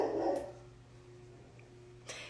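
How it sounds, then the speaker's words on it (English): A female guard dog barks once at the start and again near the end, two short, fairly loud barks heard from nearby in a quiet setting. "Guard dog's doing her job."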